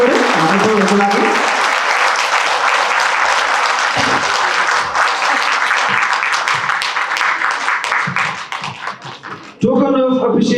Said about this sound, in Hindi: एक बार जोरदार ताली बजाइए